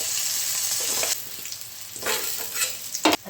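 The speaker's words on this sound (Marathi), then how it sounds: "आता यानंतर कांदा चांगला परतून घेते." Onion sautés in hot oil with a bright continuous sizzle, broken by several scraping stirs and a sharp clack of the utensil near the end.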